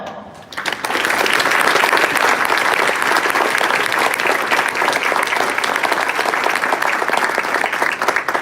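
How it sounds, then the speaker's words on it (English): Sustained applause from a large crowd at a Navy recruit graduation ceremony at Great Lakes, Chicago, starting abruptly and holding steady and loud throughout with no talk over it. "Please join me in a round of applause for all the RDCs, instructors, and staff here at RTC who made today possible."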